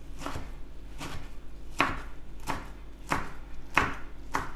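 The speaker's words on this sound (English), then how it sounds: "And I'm just gonna do a rough chop into ribbons" Knife rough-chopping spinach leaves into ribbons on a cutting board, a steady series of about seven crisp, evenly spaced chops, close and clear with no talking.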